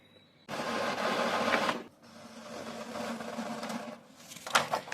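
An Epson EcoTank L6270 colour printer runs in mechanical bursts, with one whirring feed pass followed by a quieter, longer printing run, ending in a few clicks close by.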